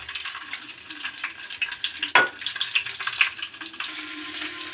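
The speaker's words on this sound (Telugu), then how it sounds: "ఆయిల్ కాగిపోయింది. ఇప్పుడు వేసుకుందామండి జీలకర్ర," Cumin and mustard seeds sizzle and crackle in hot oil, a steady close frying hiss with a brief sharp burst partway through and scattered small pops, no talking.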